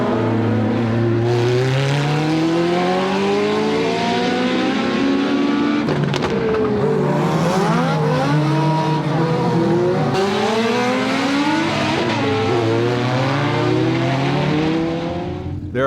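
Race cars roar through a Grand Prix street race on snow during a winter festival in Alaska, engines loud and continuous with rising and falling revs as several cars accelerate and pass close by.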